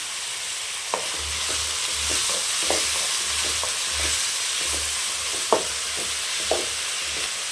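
Tomatoes and onions with gongura greens sautéing in a pan with rock salt, a constant sizzle broken by repeated scraping stirs and a few sharp clinks of a spoon against the pan.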